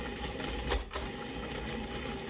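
A food processor pulses pecans and dry baking ingredients with a close, steady whirring motor, briefly surging midway with a short louder burst.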